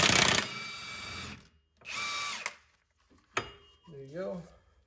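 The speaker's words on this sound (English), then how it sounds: "I'm gonna break the nut right here loose for the axle" Power tool breaking loose the 32 mm rear axle nut on a 2011 Ford Explorer during knuckle replacement, heard as two loud whirring bursts of about a second each, followed by a sharp clank and short mechanical noises.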